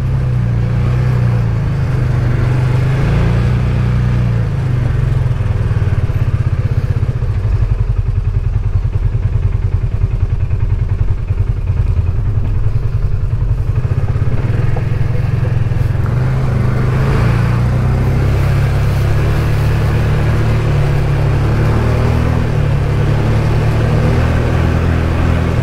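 ATV engine on the Red Line trail, a loud, constant low rumble with uneven throttle swells and some clatter throughout, close to the rider and without talk.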